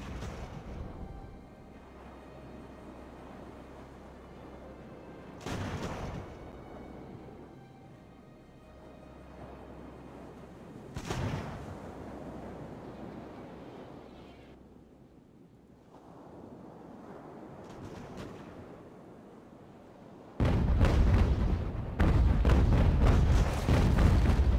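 An enemy sailing ship fires its cannons in the game Ultimate Admiral: Age of Sail. Isolated distant booms cut through steady wind and sea wash, then a dense, loud barrage of cannon fire follows.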